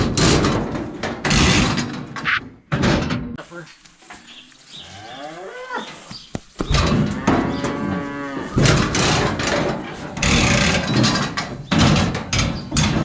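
Cattle and calves moo loudly and repeatedly during calf working for vaccinating, branding and castrating, with long drawn-out calls overlapping one another and a few clanks of gates or chutes between them.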